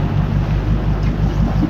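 Amphibious vehicle pushing through waist-deep flood water in a neighbourhood, a loud, rough low rumble of engine and water churning, with wind buffeting the microphone.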